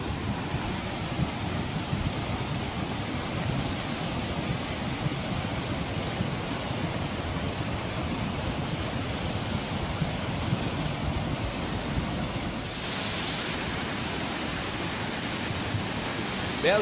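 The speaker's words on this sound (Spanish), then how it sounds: "Vea usted la creciente tan tremenda." The swollen Cervita river rushes in flood at about three times its normal flow, a loud, dense, unbroken roar of water heard close by that continues throughout with no voices.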